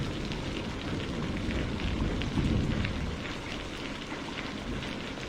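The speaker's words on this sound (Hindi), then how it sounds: "बारिश बहुत तेज है" Heavy rain pours steadily, a dense broadband hiss with a low rumbling swell near the middle, no voices.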